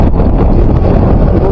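Strong wind buffets the microphone at a windy coastal spot in northern Luzon near the Bangui windmills, a steady loud roar with no break through the whole stretch.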